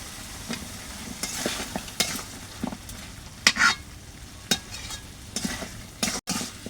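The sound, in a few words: vegetable stalks frying in spice paste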